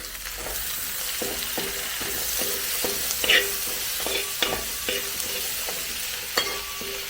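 Chopped tomatoes and curry leaves fry in a hot pan for a chicken curry, a steady close sizzle broken by regular scraping strokes of a spoon stirring through the mixture.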